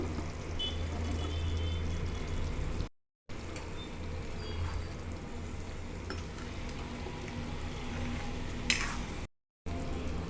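Chicken curry simmering in a pot as pieces of drumstick vegetable are added: steady soft sizzling and bubbling with light stirring and clinks, moderately quiet.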